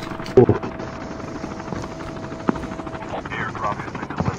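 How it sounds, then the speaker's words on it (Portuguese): Helicopters fly in a multiplayer shooter match, a continuous rotor drone throughout with occasional sharp bangs, and a player talks over it. "Dois helicópteros. Três helicópteros."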